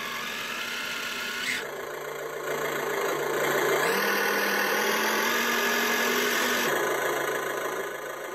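Engine sound generator on an Absima Sherpa RC car imitating an old Russian Tatra truck, a loud continuous droning idle whose pitch steps up and down several times, close and alone.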